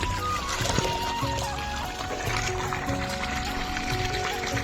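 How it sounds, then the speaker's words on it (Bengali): Irrigation water pours and splashes into the furrows of a potato field, a continuous close gurgling flow with a steady noisy rush under faint outdoor tones. "দেখো কত সুন্দর জলটা পড়ছে"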